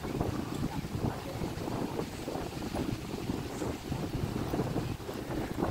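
Gusty wind at a lake in Canada buffets the microphone in uneven, rumbling bursts, with faint water movement underneath and no one speaking.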